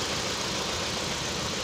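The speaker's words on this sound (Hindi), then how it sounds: "तो देख सकते हैं पूरा इंजन हिल रहा है, पूरा इतना ज़्यादा वाइब्रेशन हो रहा है इसमें।" A Maruti Suzuki Ertiga petrol engine idles roughly with a cylinder misfire, a steady close rumbling drone with uneven knocking pulses and vibration throughout.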